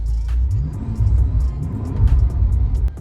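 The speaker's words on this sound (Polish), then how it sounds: "Dobra, odpalimy go, bo jest yy, gorąco i chciałbym troszkę klimatyzacji" A used Bentley car engine runs at idle after being started, a steady close low rumble with faint clicks and no speech.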